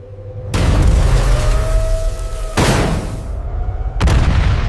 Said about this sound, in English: A powerful explosion tore through Reactor 4 and sent radioactive material into the atmosphere.